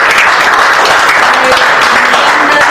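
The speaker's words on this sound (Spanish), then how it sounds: "Qué lindo aplauso, qué lindo." Loud, steady applause from a studio audience at a TV show, with dense continuous clapping filling the whole stretch and no break.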